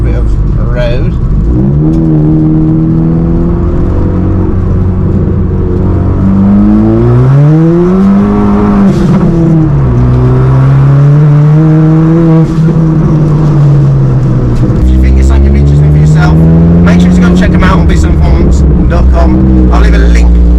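A modified car drives along the road, its engine droning steadily with rising and falling pitch as it accelerates and eases off, loud and close throughout.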